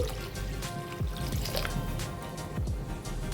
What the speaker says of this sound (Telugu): ఇంకొద్దిగా వాటర్ వేసుకోవాలి మరీ చిక్కగా ఉందండి